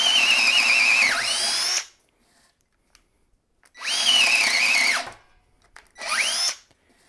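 A cordless drill with a 1/2 inch twist bit bores through 2x pine in three loud bursts: a long whining run, a pause, a second run, then a shorter one, each slowing as the bit bites.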